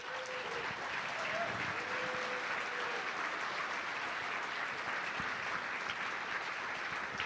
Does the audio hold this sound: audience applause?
yes